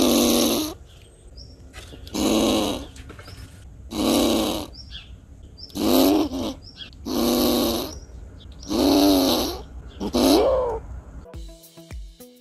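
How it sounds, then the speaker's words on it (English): A squirrel makes a deep roaring call meant to scare off a bird: seven loud, throaty bursts of about a second each, spaced evenly with short gaps, close to the mic and with no talking. "The squirrel is trying to make a deep roaring sound to try and scare away a bird that she saw."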